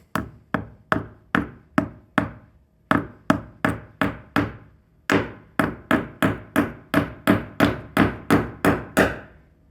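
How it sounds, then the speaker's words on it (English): Sharp ball peen hammer strikes on metal, about twenty in irregular bursts, close and loud, each ringing briefly before the next blow, while adjusting a front door that won't close. "But I'll just go ahead and hammer that in."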